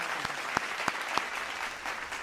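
Audience applause at a Hindi poetry gathering (kavi sammelan): steady, moderately faint clapping from a crowd, with a few sharper individual claps standing out.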